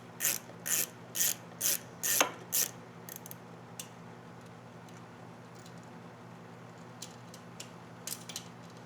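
A ratchet wrench clicks as seat bolts come off a Honda XL600V Transalp motorcycle, with six quick, close bursts of ratcheting at the start and then sparse faint clicks and taps in a quiet room.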